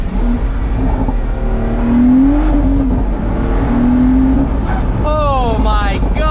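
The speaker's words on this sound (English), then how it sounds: "The first thing you notice in this car is that roof scoop noise right behind your head" Close, loud intake roar from the roof scoop of a Pagani Huayra Roadster BC heard from the cabin, an engine note climbing under acceleration with a rising whine, then quick shifting pitch sweeps as it slows, amid a speaking voice.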